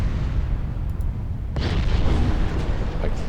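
16-inch naval guns fire in a naval warfare game, a deep rumbling boom swelling midway over continuous low background roar, with a distant, muffled quality.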